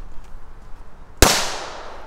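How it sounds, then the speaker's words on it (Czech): A single sharp Dum Bum Pirát wick firecracker blast tearing open a metal can outdoors, one loud bang with a brief decaying tail after a quiet lead-in. "No a teď to napravíme petardou Dum Bum Pirat s knotem."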